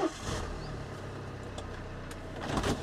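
Power folding convertible roof of a car with about 120,000 miles lowering, a steady mechanical motor whir with faint clicks that runs for a few seconds. The sound is close by, with no talking over it.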